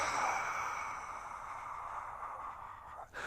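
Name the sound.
exhaling breath during core exercise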